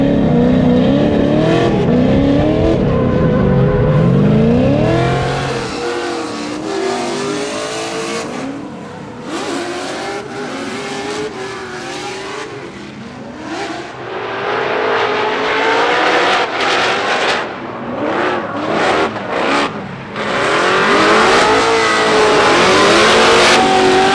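Formula Drift cars at Irwindale during a practice session, with engines revving hard and wailing through gear changes, tires squealing, loud and sustained as cars pass and slide close by.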